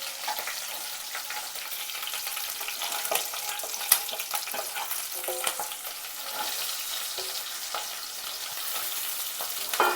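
Green chillies sizzle and crackle steadily in hot oil in a pan while cooking brinjal curry, with intermittent scraping stirs and clinks of a utensil throughout, no voices.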